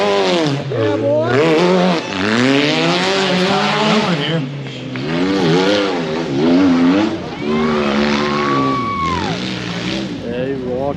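An off-road rail buggy at a dirt off-road park in Kentucky revs loud and close as it drifts, its engine rising and falling in repeated surges with brief tire squeal, while people talk over it.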